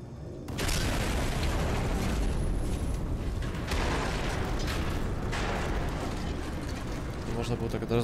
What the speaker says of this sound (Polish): Można było tak od razu wybuchnąć.